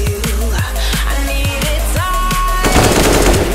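Gunfire in the video game CS:GO during a match in Hyderabad, loud bursts of rapid shots with sharp transients over a constant game backdrop, ending in a denser rattling spray.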